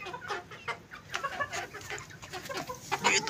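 Backyard hens cluck in a steady, close run of short irregular calls, with a few sharper squawks near the end and no talk over them.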